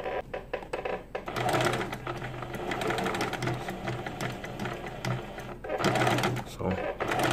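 A sewing machine stitches fabric for a homemade butterfly bow tie with a rapid mechanical chatter that runs in bursts and pauses briefly, close and fairly loud, while someone talks over it.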